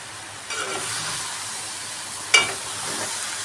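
Bottle gourd pieces are dropped into hot oil in a pan for a curry. A soft, steady sizzle follows, broken by one sharp metallic clank.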